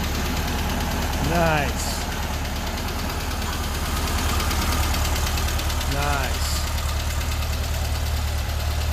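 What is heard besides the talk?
Volkswagen engine idling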